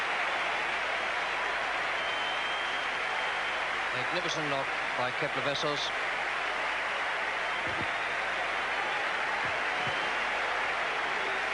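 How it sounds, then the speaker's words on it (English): Broad roar of a cricket crowd cheering a century by Kepler Wessels at the Sydney Test, Australia versus West Indies, 1984-85, a steady sustained wash of noise throughout with a commentator speaking over it. "A huge cheer from this crowd."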